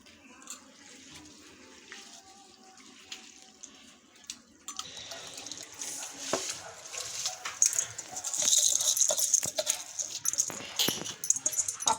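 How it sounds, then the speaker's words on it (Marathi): Long-grain aged rice being rinsed in water for chicken dum biryani: quiet at first, then steady nearby swishing and splashing of water that grows busier toward the end. "आपण तांदूळ धुवून यात टाकूया"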